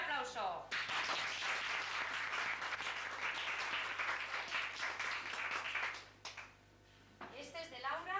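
Audience applause at a 1988 ballet festival award ceremony in Fuente de Pedro Naharro, dense clapping from a crowd sustained for about six seconds, then fading as a voice speaks.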